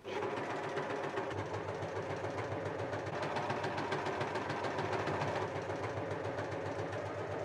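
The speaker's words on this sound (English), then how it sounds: "I'm first running them through an overlocker which stitches a loop around the edge" Overlocker serging the raw edges of fabric: a continuous, fast, rhythmic mechanical whir with rapid needle and looper ticking, close and steady throughout without talk.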